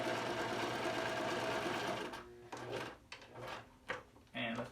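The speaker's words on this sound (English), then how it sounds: "And I'm just going to start. I'm going to back stitch," A sewing machine back-stitches on a cotton face mask: a steady close whir of stitching, then stop-start reverse and forward bursts with brief pauses.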